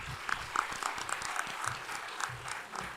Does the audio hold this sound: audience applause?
yes